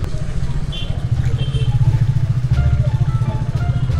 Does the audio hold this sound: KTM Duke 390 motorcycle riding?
yes